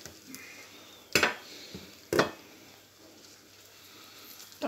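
Food simmers in a pan on a stove with a steady, faint bubbling sizzle, broken by two sharp clinks of a utensil against the pan.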